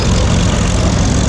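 A 7U D4 crawler tractor engine drones while towing an ADAMS elevating grader through a field, a loud, steady, low rumble with no pauses or voices.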